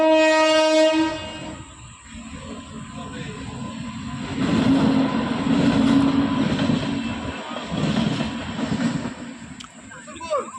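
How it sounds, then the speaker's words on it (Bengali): A train passes a railway crossing: a brief blaring horn opens, then the heavy rumble and clatter of rail cars rolling by close at hand, swelling and easing with a few pulses. "ট্রেন যাবে এবার।"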